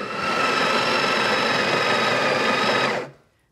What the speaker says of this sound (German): Erstmal malt Janusz den Kaffee